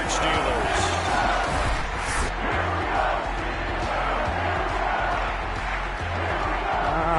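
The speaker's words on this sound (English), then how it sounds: "All right, crowd lit." Stadium crowd noise from the Madden 22 football video game at a Wild Card playoff game between the Denver Broncos and Pittsburgh Steelers, a loud continuous roar of cheering with deep rhythmic thumps underneath.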